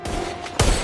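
Gunfire in an action film, a couple of sharp, close reports in quick succession, the second louder and heavier.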